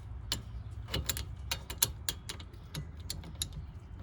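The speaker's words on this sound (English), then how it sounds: "I always like to break it loose with a deep socket like this." A deep socket on a ratchet clicks in quick irregular ticks as it breaks loose the rear brake bleeder screw on a 2013 Honda Odyssey, close and fairly quiet with no talking.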